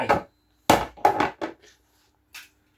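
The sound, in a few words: hammer put into a metal bucket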